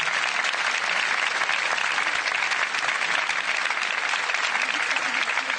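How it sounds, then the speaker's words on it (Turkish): Studio audience applauds on a Turkish TV show, a dense, steady wash of many hands clapping that holds at an even level throughout, close and without a break. "O yüzden bir alkış rica ediyorum"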